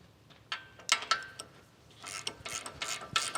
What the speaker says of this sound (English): So let's go ahead and finish pulling these bolts out of the back.